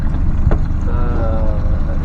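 A Yamaha 70HP outboard engine idles steadily on a MacGregor 26X boat, a continuous low rumble with a faint tonal hum, close and alone with no talk.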